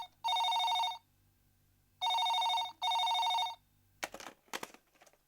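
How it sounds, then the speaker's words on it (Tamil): A telephone rings in three loud electronic bursts with quiet gaps between them, followed by a brief clatter of handling sounds. "எப்ப பார் இந்த ஃபோன் தொல்லை."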